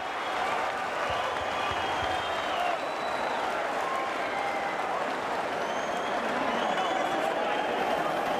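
Boxing arena crowd at a bout between Arturo Gatti and Ivan Robinson, roaring and applauding continuously as a round ends, a dense steady wall of cheers and clapping with commentary voices underneath.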